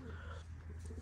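Racing pigeons coo softly in low, throaty murmurs, faint and steady, with no other sound standing out.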